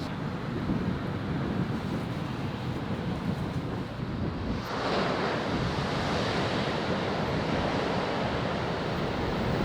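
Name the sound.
strong wind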